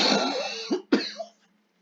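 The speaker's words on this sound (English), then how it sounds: "I'm coughing" A single person coughs twice in quick succession, a rough, throaty burst followed by a short second hack, close and fairly loud, then silence.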